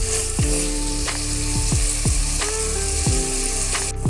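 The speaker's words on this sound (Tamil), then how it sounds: "புதினா கொத்தமல்லி போட்ட உடனே நல்லா வதக்கி விட்டுக்கோங்க" Mint and coriander leaves sautéed in hot oil for a pressure-cooker chicken biryani, a loud continuous sizzle broken by several sharp scrapes of a ladle stirring the leaves, close up and with no talk.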